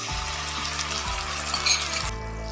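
Soy sauce added to a hot frying pan makes a steady, loud sizzle under a constant low hum, with a brief sharper crackle near the end and no talk.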